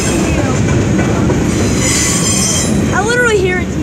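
A loud, close mixed train with a distributed power unit locomotive rumbles past in a continuous roar, with high wheel squeal and a short rising whine near the end.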